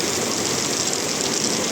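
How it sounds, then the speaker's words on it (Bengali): A car pushing through rainwater on a flooded Dhaka road in heavy rain, heard as a dense continuous wash of hissing spray and engine noise, loud and close. "এই যে বৃষ্টিতে গাড়ি চলে যেতেছে"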